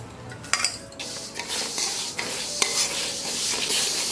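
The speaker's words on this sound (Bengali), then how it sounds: "একদিকে আমি মুগ ডালগুলো ভেজে নিচ্ছি।" Moong dal frying in a pan, a soft sizzle under repeated scraping and clinks of a spatula against metal cookware as the lentils are stirred, close by and fairly steady with no talking.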